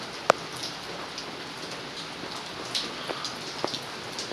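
Steady rain falls outdoors on New Year's Day in a residential neighborhood, a soft continuous patter with a few sharper drips now and then, heard alone at moderate distance.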